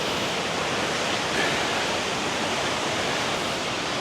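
Balabag Waterfall in the Philippines gives a steady, dense roar of rushing water, loud and unbroken throughout, with no voices.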